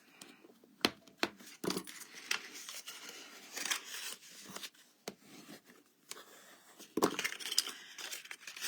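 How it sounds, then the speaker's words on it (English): Paper edges of a Halloween treat box for Hershey Nuggets being folded in by hand: soft, close crinkling, scraping and creasing with a few sharp snaps, steady and faint with brief pauses. "I can fix it as I'm folding those edges in."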